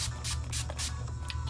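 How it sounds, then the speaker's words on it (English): A rose water setting spray mists out in several quick, hissing bursts in a steady rhythm, close and fairly soft over a low background hum. "we're gonna finish this off with some setting spray with rose water."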